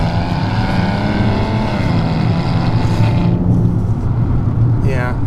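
A Maserati Ghibli drives hard through S-bends on a twisty road, its steady engine drone loud and constant with shifting tones, a voice talking over it throughout.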